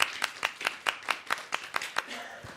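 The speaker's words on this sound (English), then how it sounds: "I would like to give a quick round of applause." A brief round of applause closes a civil society panel discussion, with about ten evenly paced claps that soften and fade out.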